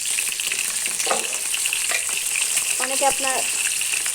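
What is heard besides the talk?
egg frying with turmeric and salt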